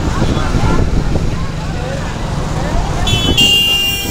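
An APSRTC bus on the Tenali to Kothurulanka route idles and rumbles amid busy roadway traffic, with a sharp horn blast cutting in near the end; voices chatter underneath.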